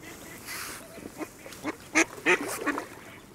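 Waterfowl near a bream feeder fishing swim give a series of short honking and quacking calls, several sharp bursts clustered toward the end, fairly close over a quiet outdoor background.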